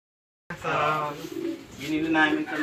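Pigeons in a loft coo and murmur close by after a moment of silence, several birds overlapping in soft, throaty calls.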